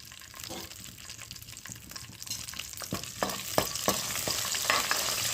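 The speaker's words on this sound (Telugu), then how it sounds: "సో వేగిపోయాయి కాబట్టి పచ్చిమిరపకాయలు వేసేసుకుంటున్నాను." Green chillies tossed into hot oil for a curry, with a steady broadband sizzle that intensifies toward the end, punctuated by several sharp pops and crackles.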